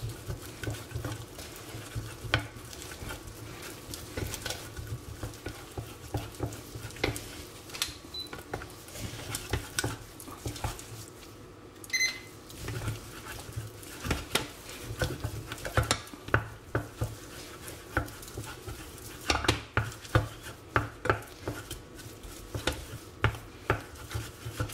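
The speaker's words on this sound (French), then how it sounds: "Je mélange vigoureusement, je baisse le feu de ma plaque et je mélange jusqu'à faire une pâte homogène." A butter and flour paste is stirred vigorously in a saucepan over lowered heat while making choux-style dough for a fraisier. The stirring is a steady scraping and patter throughout, with occasional sharper clicks of a utensil against the pan.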